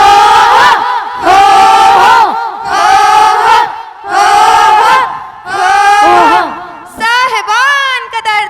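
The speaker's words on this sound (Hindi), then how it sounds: "तो जोरदार तालियों से स्वागत करिए हम लेंगे अधिकार के" Loud crowd of voices shouts and chants in repeated bursts at a school annual function's street-play performance, with pauses between swells and rising whoops near the end; group cheering rather than clapping dominates.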